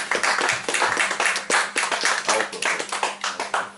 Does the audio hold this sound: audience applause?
yes